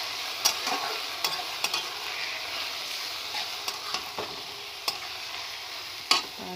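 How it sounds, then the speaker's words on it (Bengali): Bottle gourd being stirred in a hot pan with shrimp, a steady sizzle of frying under scattered clacks of the spatula against the pan, close and alone. "লাউটা দিয়ে আমি ভালো করে নেড়ে চেড়ে"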